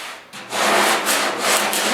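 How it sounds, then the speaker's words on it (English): Sandpaper scrapes by hand across the cab corner bodywork of a 1956 Mercury, with close, raspy back-and-forth strokes in a steady rhythm after a brief pause. "so when you're doing your sanding"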